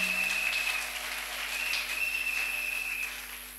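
Congregation clapping during a church service, a steady, moderately loud spread of applause that fades slightly toward the end, with a faint whistle-like tone running over it.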